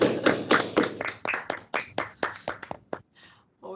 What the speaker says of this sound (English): give a round of applause that the speaker can actually hear